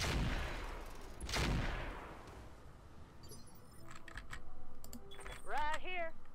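Mech weapons fire in the video game Roguetech: a loud rushing blast followed by scattered mechanical clatter and rising electronic tones, with bursts and whines building toward the end.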